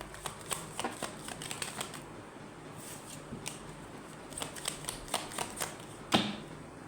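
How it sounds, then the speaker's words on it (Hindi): Tarot cards being shuffled by hand during a card reading, giving soft repeated riffling and slapping bursts at an even, close-up pace, with a sharper snap near the end. "कार्ड आ गया, दोबारा से शफल करते हैं।"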